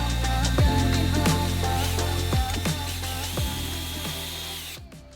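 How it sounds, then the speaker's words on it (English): A power tool whirs steadily and loudly at close range, with repeated rhythmic bumps as the spinning brush presses and scrubs against a very dirty Off-White Nike Dunk sneaker. "We've brought out the power tools."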